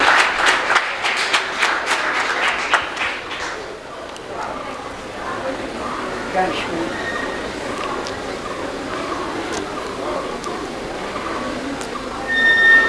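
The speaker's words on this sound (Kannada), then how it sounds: "ಎಲ್ಲರಿಗೂ ಚಪ್ಪಾಳೆ ತಟ್ಟಿ" An audience claps for scholarship award winners at an annual student scholarship and alumni meet, a brisk burst of applause at the start that fades into a murmuring hall with voices, then a brief swell of clapping near the end.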